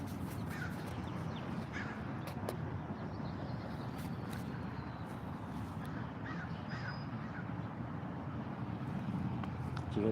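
Crows caw outdoors over a steady rumble of wind, the harsh calls scattered and fairly distant, with no one speaking.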